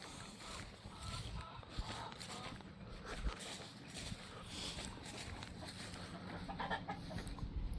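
Chickens cluck steadily from a backyard coop and run, soft and somewhat distant under a constant outdoor wash of ambient noise, with occasional louder calls standing out.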